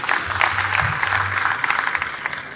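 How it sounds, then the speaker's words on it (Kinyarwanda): A studio audience claps warmly for a correct answer at a quiz, a dense, steady patter of many hands sustained for the whole stretch with no voices over it. "baraguha amashyi menshi cyane"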